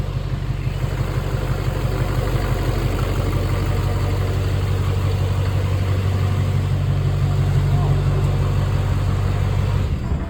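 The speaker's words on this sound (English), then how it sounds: "That sound coming from this car." A car engine idles steadily up close, a low rumbling hum that stays constant for several seconds before cutting off at the end.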